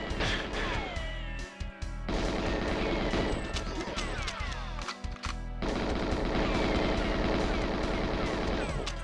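Gunfire in GoldenEye 64 on the Dam level: dense, continuous bursts of game weapon fire and clatter layered over music and effects, loud and sustained, with brief dropouts.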